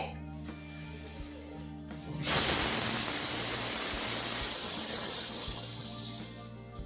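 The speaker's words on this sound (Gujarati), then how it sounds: "કુકર બંધ કરી અને એને બે વિસલ લઈએ છીએ આપણે" A pressure cooker cooking moong dal releases a loud, sustained hiss of steam that starts abruptly and continues steadily, with a low hum underneath.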